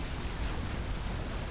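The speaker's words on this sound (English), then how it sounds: "The little seen Gatling guns on the Fat Boy now going into effect here." Fat Boy Gatling guns firing in Supreme Commander: Forged Alliance, a dense, continuous roar of rapid booming bursts with heavy low-end rumble, loud and unbroken throughout with no talking.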